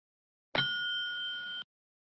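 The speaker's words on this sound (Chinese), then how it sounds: "将听到一声铃响" A single bright bell ding rings out as a timing signal at a Chinese-language debate contest, with a sharp strike and a clear, sustained metallic tone lasting about a second before cutting off, heard alone in silence.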